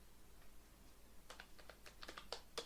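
A git command being typed on a computer keyboard: after a quiet second, a quick, faint burst of key clicks patters on for just over a second.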